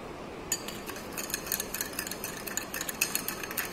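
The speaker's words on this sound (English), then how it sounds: "this we have to continuously stir the solution" A spoon stirs sugar into water in a glass beaker, making quiet, rapid clinks and taps against the glass in an irregular run, faint and close with no voices.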